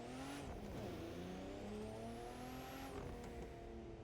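A Mitsubishi 3000 GT street car in The Crew 2 revs hard, its engine climbing through rising, harmonic-rich pitch sweeps with a shift-like dip, loud and continuous, backed by a faint high whine.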